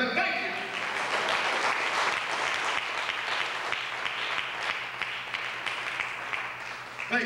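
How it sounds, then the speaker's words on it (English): A church congregation claps hands in praise, a dense and steady round that runs throughout under a faint voice and occasional murmured talk. "Give the Lord a hand clap and tell him thank you."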